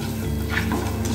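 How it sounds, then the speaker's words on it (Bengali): Turmeric, red chili powder and salt are stirred into hot tempering oil for Bengali bata fish tok, a close, loud sizzle with a brisk scrape of the spoon. "ফোড়নের সাথে মিশিয়ে নেব"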